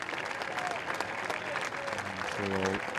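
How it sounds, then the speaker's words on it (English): Both sets of supporters at a non-league football match between Potters Bar Town and Barnet give a standing ovation to a substituted player. The warm applause is steady and sustained from a crowd, with a voice heard briefly over it. "the warm applause from both sets of supporters"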